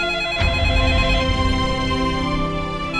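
A telephone rings indoors, a continuous electronic ringtone lasting about three seconds with a soft thump early on.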